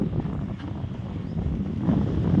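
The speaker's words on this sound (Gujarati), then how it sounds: "ઘડીક બંધ થઈ જાય ને વળી પાછો ફૂલ પવન આવે" Strong wind over a village vegetable field buffets the microphone in a steady low roar that swells toward the end.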